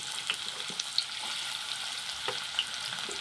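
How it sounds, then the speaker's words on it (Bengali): Onions sizzle in hot oil in a kadai tempered with cumin seeds and dried red chilli, a steady close frying hiss with a few light clicks and spatters and no talk. "পেঁয়াজগুলো লাল লাল করে ভেজে নেব।"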